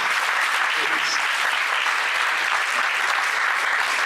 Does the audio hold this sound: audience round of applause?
yes